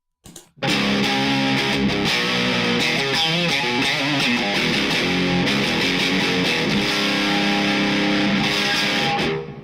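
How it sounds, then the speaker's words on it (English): Electric guitar run through a Seymour Duncan Lava Box MOSFET distortion pedal, crunchy and saturated, chords ringing loud and continuous after a brief pick noise at the start. "The Lava Box is a MOSFET distortion pedal,"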